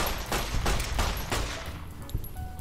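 In Fallout: New Vegas, a 9mm pistol fires a rapid string of about five sharp game gunshots, with faint chimes and interface tones in the background.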